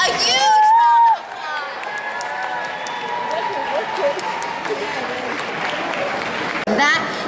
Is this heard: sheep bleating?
no